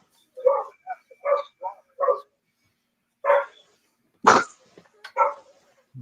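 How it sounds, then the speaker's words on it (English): A dog barks close by in a series of sharp, loud barks, first a quick run of four, then after a pause a few more, each separated by short silences. "Oh, my dog's barking."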